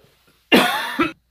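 A single sharp, close cough bursts out, followed by a shorter second hack, with quiet before and after.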